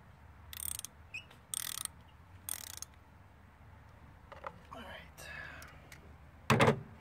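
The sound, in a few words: 3/8 drive ratchet with spark plug socket on Ford Fusion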